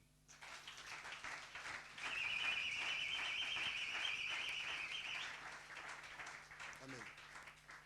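A church congregation breaks into loud, sustained applause lasting about three seconds, then fades, with a steady tone and voices underneath.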